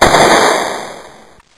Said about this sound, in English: that bang you heard was those caps discharging from terminal to terminal